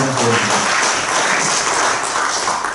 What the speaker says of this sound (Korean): 다시 한번 박수 한번 주시죠